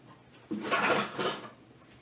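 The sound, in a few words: lid being put on a cooking pot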